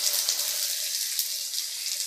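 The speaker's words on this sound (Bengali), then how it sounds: "পেঁয়াজটা একটু ভেজে নেব।" Onions frying in hot oil with whole garam masala, bay leaves and black cumin for a prawn curry, a steady bright sizzle that stays loud and even throughout without pause.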